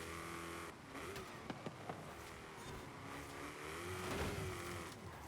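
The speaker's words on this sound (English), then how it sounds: "This is a great sounding sport exhaust." Sport exhaust on a car in Forza Horizon 5, tuned to 450 horsepower, droning steadily as the engine revs rise and fall, with a few sharp pops partway through.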